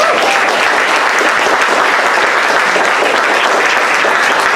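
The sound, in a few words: audience applause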